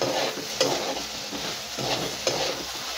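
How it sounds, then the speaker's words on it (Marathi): Okra (bhindi) frying on full flame, a continuous loud sizzle with periodic stirring strokes and scraping against the pan, close up. "एकदम फ्राय भेंडी झालेली आहे"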